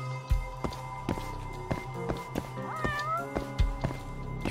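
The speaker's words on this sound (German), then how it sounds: "Hier die Katze." A cat meows in the video game Judgment, with a short rising and falling call that stands out clearly over a steady, busy game soundtrack of low hum and soft thumps.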